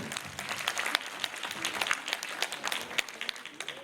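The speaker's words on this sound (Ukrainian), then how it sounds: "Демчук, Яніна Кароліна, ваші оплески" An audience applauds at a dance performance, a dense patter of many hands clapping at moderate distance, holding steady throughout with no pause.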